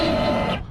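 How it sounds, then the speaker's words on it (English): Hydraulic trim on a boat's outboard motor, low on fluid, gives a brief close whirring squeal that cuts off quickly. "That noise is okay, it's just a little bit low on hydraulic fluid, so it's a little squeaky."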